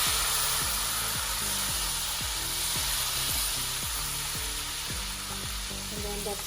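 Capsicum fries in a pan during the making of salmon with garlic lemon sauce, giving a steady, close hiss of sizzling throughout under rhythmic background music.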